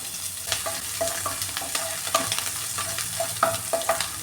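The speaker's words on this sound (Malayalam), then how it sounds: "ഈ ചോപ്പ് ചെയ്ത് വെച്ചിരിക്കുന്ന പച്ചമുളക് അതും കൂടി ഇട്ട് കൊടുക്കുവാണ്" Chopped green chillies fry in a pan for chicken roast, giving a lively close sizzle with irregular spatters and light stirring clicks throughout.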